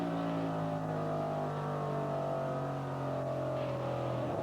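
Racing trucks at the 1998 NAPACARD 200 drone steadily around the track, with overlapping sustained engine tones from a distance and no speech.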